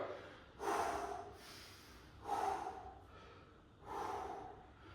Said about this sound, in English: This is literally how hard I'm breathing, how heavy I'm breathing right now